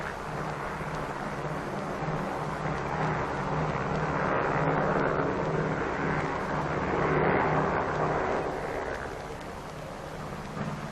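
Propeller aircraft engines, a B-29 bomber and C-54 transport serving as camera planes at the 1946 Operation Crossroads atomic test, drone steadily and fairly loud throughout, swelling slightly midway with no talk.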